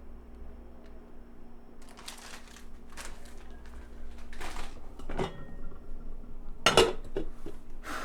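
Pots and dishes clatter and clink in a sink during washing up, with scattered bursts of rattling and one sharp clank, moderately close, no talking.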